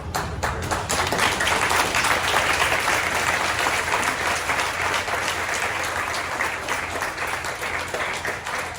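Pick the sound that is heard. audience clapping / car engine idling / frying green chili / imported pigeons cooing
audience clapping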